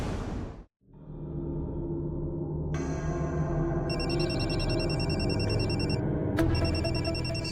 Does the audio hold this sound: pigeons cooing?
no